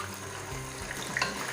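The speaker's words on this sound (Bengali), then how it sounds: "চিকেনটাকে হালকা করে ভেজে নেব।" Chicken pieces fry lightly in a pan over a medium flame, giving a soft, steady sizzle with faint crackles, close and unbroken.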